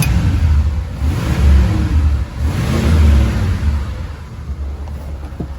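A 1972 Chevy Monte Carlo's engine runs on its own, a steady mid-pitched rumble that swells and eases a few times as if lightly revved, close and fairly loud.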